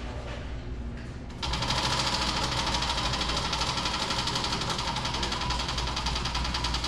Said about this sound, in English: he's going to go and spin the wheel